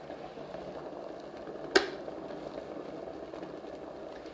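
A low, steady bubbling rumble of water boiling over with eggs in an electric kettle, with a single sharp click partway through; no talking.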